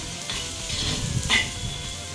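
Shallots for egg thokku sizzle in an oiled pan, a close, continuous frying hiss broken by two quick spatula scrapes.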